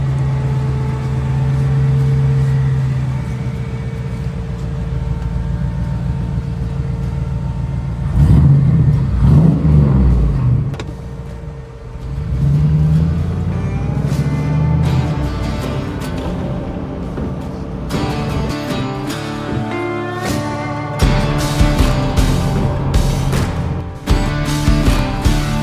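A resto-mod 1993 Toyota Land Cruiser RJ70 with a fuel-injected, aluminum-head V8, idling with a low steady rumble, then loud revving surges before settling back, close by.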